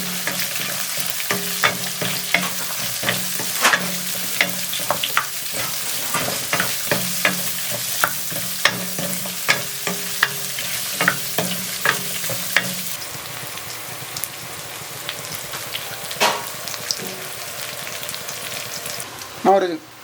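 Garlic with chopped onions and small shallots frying in a hot kadai for murungai keerai sambar: a loud, continuous sizzle broken by repeated sharp spatula scrapes and knocks, close up throughout.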